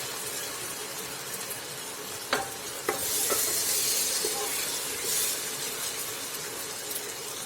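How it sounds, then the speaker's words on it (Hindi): Mutton sizzles in a pan with garlic, ginger and onion while being stirred, with a steady frying hiss and a few sharp clinks of the spoon against the pan, close and fairly quiet. "अब मटन को 2 से 3 मिनट तक लहसुन अदरक और प्याज के साथ भून लेंगे"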